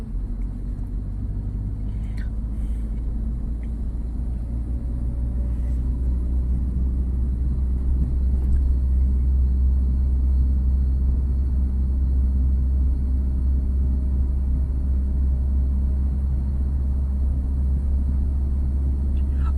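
A car drives along a road in traffic, heard from inside the cabin as a loud, constant low rumble of engine and tyres that stays steady for the whole stretch.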